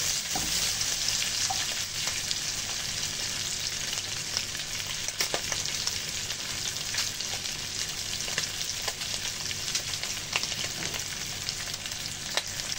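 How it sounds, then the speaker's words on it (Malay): Garlic sizzles and crackles steadily in a hot pan, with occasional scraping taps of stirring throughout. "Kita boleh masukkan bawang putih."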